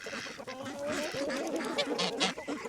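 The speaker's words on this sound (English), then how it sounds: "So the ducks are getting their drink, and the geese." Ducks and geese in a flock drinking, a close mix of overlapping quacks and a few honks in quick irregular bursts, fairly soft, with no clear talk.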